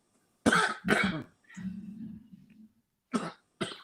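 Two sharp coughs, a short throaty groan, then two more coughs, close and fairly loud against silence.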